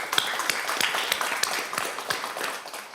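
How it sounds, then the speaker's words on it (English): Scattered applause at a school board meeting, a modest room of people clapping in irregular, fairly faint bursts for a few seconds. "So can we get a round of applause for anyone that was involved with planning the graduations?"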